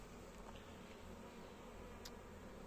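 Honeybees buzz steadily around an open hive during a beekeeping inspection, a soft continuous drone close by with no voices.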